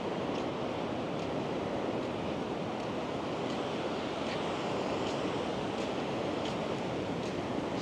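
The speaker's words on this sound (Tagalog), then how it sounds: "Lakas ng flow ng water going sa sea." At Lamane Beach a river pours strongly into the sea, making a continuous broad rushing roar of water with wind buffeting the microphone and no voices.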